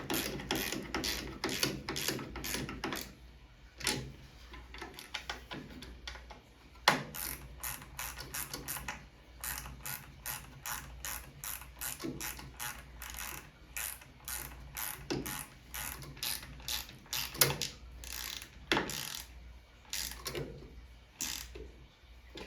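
A flathead screwdriver tightens screws on a Sinistar arcade cabinet's control panel. Quiet, rapid ratcheting clicks repeat in short bursts, close by and without speech.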